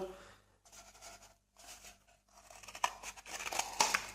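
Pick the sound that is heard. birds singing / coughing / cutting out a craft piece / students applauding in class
cutting out a craft piece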